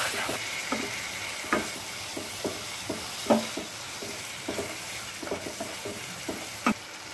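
Tomato puree masala with coriander powder frying in a pan for egg curry, a soft steady sizzle under regular spoon strokes that scrape and tap the pan every half second or so, close and fairly quiet.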